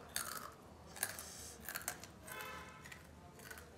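Crunchy chakli being chewed close up, quiet crisp crunches repeating in an uneven rhythm, each bite a short crackly burst.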